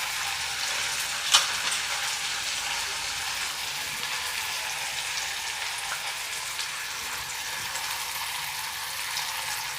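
Onion and tomato fry in oil in a pan with a steady, close sizzle, with soft stirring scrapes and one sharp clink of the spoon against the pan near the start.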